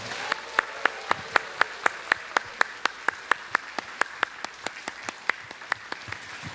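A church congregation applauds in steady, rhythmic unison claps during a Sunday service, crisp and evenly spaced, continuing throughout at a moderate distance.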